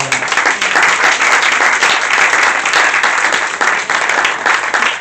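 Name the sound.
congregation applauding and cheering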